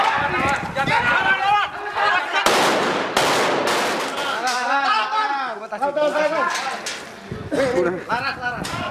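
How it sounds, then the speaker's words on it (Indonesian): Sharp bursts of gunfire ring out during a police raid in Lampung on a repeat-offender motorcycle thief who shoots back. The short cracks come through under continuous talking. "pelaku bernama Abdul Lahab kembali melakukan perlawanan dengan melepaskan tembakan"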